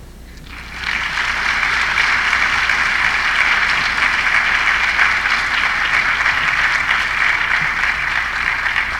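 Sustained audience applause fills a memorial celebration of life, starting abruptly after a second and holding steady and loud as a dense wash of many hands clapping, with no voices over it.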